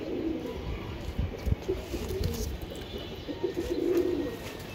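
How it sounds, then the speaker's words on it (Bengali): A male racing pigeon coos in soft, low, rolling bursts close by, with light rustling and faint bird chirps around it in a loft setting, and no talking. "এই যে এটা একটা নর কবুতর তাই না দাদা?"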